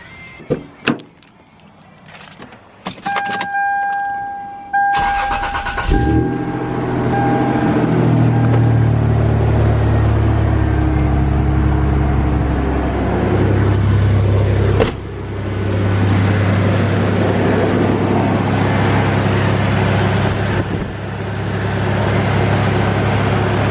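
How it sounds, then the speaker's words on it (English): A Toyota Tacoma pickup has its engine cranked and started after a few clicks and beeps, then idles with a steady low rumble, close and loud, with a brief dip in revs midway. "now we can start up the truck and just watch for leaks"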